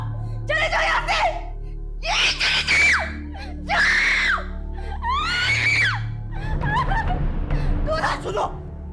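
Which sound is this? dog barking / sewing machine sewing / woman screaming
woman screaming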